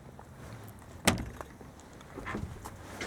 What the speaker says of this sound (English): I'll go around and open the door